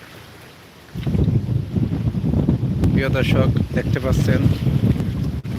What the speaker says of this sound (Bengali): বাতাস এবং ঘূর্ণিঝড় প্রভাব পড়েছে সেরকমভাবে